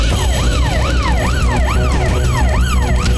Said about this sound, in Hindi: अरे फायर ब्रिगेड आ गई।